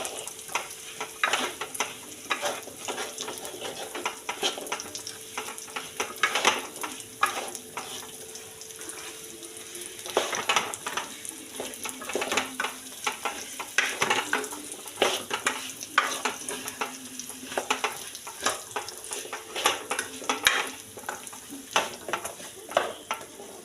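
A spoon stirs cauliflower gravy in a pan, giving repeated scraping strokes over a steady low simmering hiss, close and moderately loud, with no talking.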